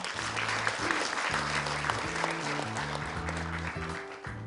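An audience at a BBB movement 10th anniversary conference applauds steadily, a sustained wash of clapping heard over soft background music tones.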